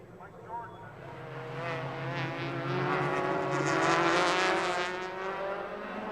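A touring race car at the BTCC round at Mondello Park builds engine revs on a restart, the roar rising steadily and peaking before easing slightly, heard under a commentator's voice.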